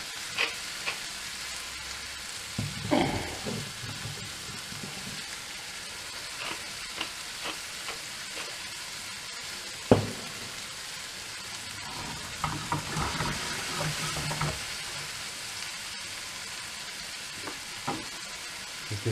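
Minced beef for a basic bolognese frying in a pan, a steady low sizzle with occasional scrapes and clatters as the mince is stirred and flipped.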